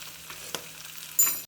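Crushed garlic and spices sizzling in hot oil for a dal tadka, a soft steady frying hiss with a few light stirring clicks near the end, close and quiet, no voices.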